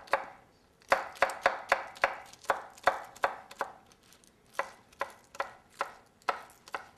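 A knife chopping six scallions on a cutting board for a salad: a steady run of crisp, close chops with a short pause midway before the rhythm resumes, no talking.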